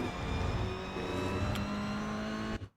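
Toyota GR86 race car engine in the iRacing sim at Navarra Speed Circuit, droning loud and steady with harmonic engine tones rising slightly as it accelerates, then cutting off abruptly at the end.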